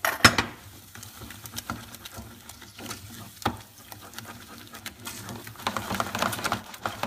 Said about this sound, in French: J'ai rajouté les œufs un par un et je mélange trop vite comme ça.